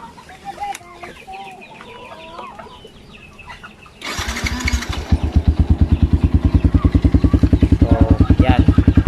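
Motorcycle engine fitted with a modified loud exhaust canister starts after quiet background with rooster and chicken calls, then runs close and loud with a rapid, even exhaust pulse that continues to the end.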